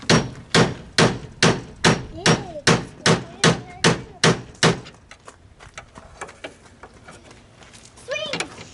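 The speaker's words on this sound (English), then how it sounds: "But here I'm just beating off that little plastic clip off that back side." About ten evenly spaced, sharp hammer blows beat a plastic clip off the back of a Ford Ranger headlight, followed by quieter scraping and handling noises, with a voice talking over it.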